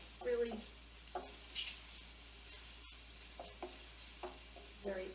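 Onions softening until translucent in a pan on a stovetop, ahead of Portuguese tuna and macaroni: a faint, low sizzle runs under scattered scrapes and light utensil taps spread across the few seconds.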